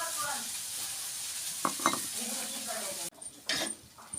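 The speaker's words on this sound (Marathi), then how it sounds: "आणि हे घेतलं तव्यावर परतून" Chopped tomato and green chilli sizzle on a hot tawa over a gas flame while being stirred, with a steady fry hiss broken by a few metal clinks of the spatula and a brief pause before the sizzling resumes.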